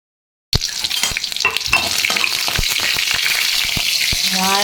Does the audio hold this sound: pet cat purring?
no